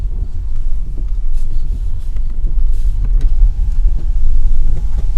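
An electric car, a BMW i3 or VW e-Golf, pulls away on a rainy evening road, giving a steady low rumble of tyres and road noise with some wind buffeting that holds throughout.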